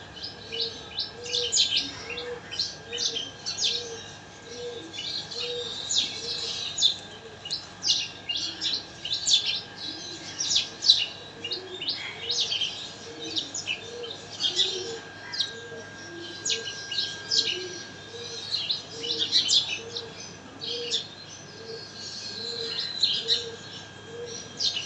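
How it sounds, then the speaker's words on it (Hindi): Birds chirp and tweet repeatedly in trees outside an open window, a steady chorus of bright calls at moderate distance with softer cooing notes beneath, no voices. "उस पर चिड़ियाँ चहचहा रही होती हैं"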